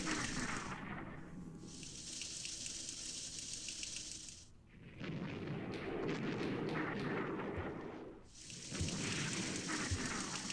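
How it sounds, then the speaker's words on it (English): Artillery strike sound effects from The Operational Art of War IV wargame, a continuous rumbling, crackling barrage like heavy rain or distant thunder, broken by two brief drops in intensity, steady and loud with no talk. "It's just an artillery strike, but still, hasn't had enough power to force our men back."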